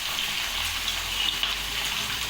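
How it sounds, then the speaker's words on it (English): Potato french fries deep frying in hot oil, a loud, dense, steady hiss of bubbling that runs without a break. "Allow it to deep fry for 2 to 3 minutes."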